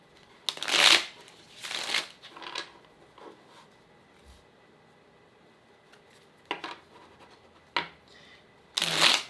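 A deck of oracle cards being shuffled by hand, heard as several quick, crisp riffling bursts close up, separated by short quiet pauses.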